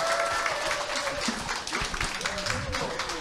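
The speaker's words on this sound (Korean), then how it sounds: "다시 한번 감사의 박수 부탁드립니다." A seminar audience gives a dense, steady round of applause, a loud wash of many hands clapping at once, with a voice speaking over it.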